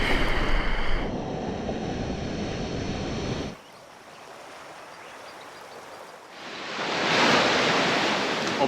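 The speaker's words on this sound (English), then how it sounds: "You can hear the waves crash, and only 5-10 meters away." Waves break and wash onto a beach in Vanuatu only five to ten meters away, a loud, steady roar of surf that dips into a softer hiss before swelling again, with no voices.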